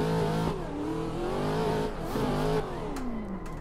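KNC Giraffe WagonFighter in a driving game, its engine revving hard and continuously, pitch climbing and dropping through repeated gear sweeps, loud and close with a faint tire edge.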